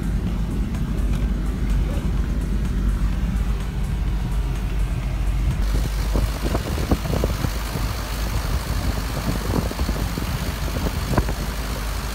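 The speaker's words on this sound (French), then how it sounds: "là on roule dans la flotte quoi" A 4x4 vehicle drives through a flooded, muddy track near Nxai Pan and Makgadikgadi, its engine a steady low rumble under splashing water that grows louder and choppier partway through.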